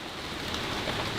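Steady rain falls on an evening outdoors near a tarp-covered bonsai area, a dense, even patter close by with no voices.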